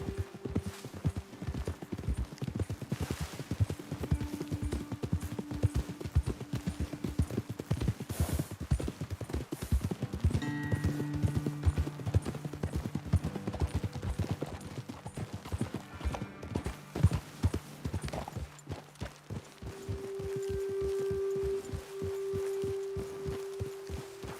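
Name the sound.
horses walking, hooves clip-clopping in video game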